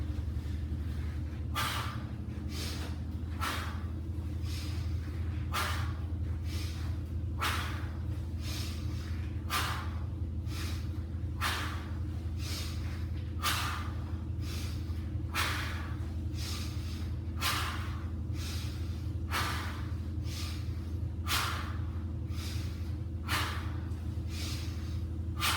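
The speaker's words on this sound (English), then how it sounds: "Pay attention to my breathing. Breathe out." Someone breathes out forcefully during a groomer workout, sharp regular exhalations repeating about once a second over a steady low hum, close and fairly quiet, with no speech.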